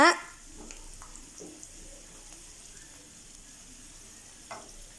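Cashews and almonds roast in oil while being stirred for a bread halwa, a soft, low sizzle with occasional light scrapes of a spoon, and a louder clatter at the start.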